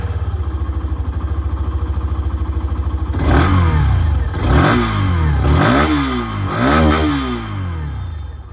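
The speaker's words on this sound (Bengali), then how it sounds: "এবার আপনাদেরকে আমি এখানে একবার এই ডুয়াল এবিএসের যে আওয়াজটা ইঞ্জিনে সেটাও একবার শুনিয়ে দিই" A Hero Xtreme 125R dual ABS motorcycle idles with a steady, rapid single-cylinder thrum, then is blipped several times, each rev rising sharply and dropping back, loud and close with no talking.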